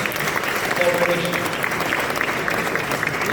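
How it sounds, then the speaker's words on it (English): Sustained applause from an audience at an ambassador's speech, a dense even roar of many hands clapping at steady volume throughout. "I kindly ask you to applaud them for their excellent cooperation"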